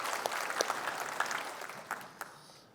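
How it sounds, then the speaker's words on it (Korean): A church congregation applauds in a worship hall, a fairly soft, steady wash of clapping with a few louder claps standing out, tapering off toward the end. "박수로 우리 하나님께 영광을 드립니다"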